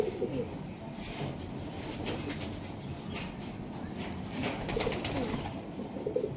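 Pigeons coo repeatedly in low, soft calls over a steady background rumble, with a few sharper sounds in between.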